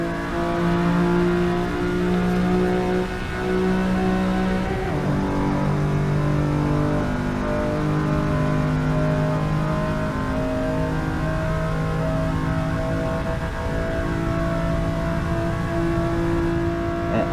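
A stock, factory-form Ferrari 365 GTB4 classic supercar at Le Mans gives a loud, sustained engine roar, its pitch rising and falling through repeated revs and gear changes.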